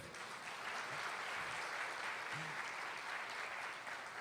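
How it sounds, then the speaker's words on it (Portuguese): A church congregation applauds during a service, producing a steady, even wash of many hands clapping that sounds somewhat distant and soft and continues throughout. "aplaude o Senhor só pela barriguinha da Duda"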